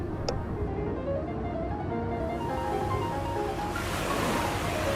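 Ocean waves washing onto a hot beach, a continuous broad rushing surf, fairly loud and steady, swelling slightly near the end, with no talking.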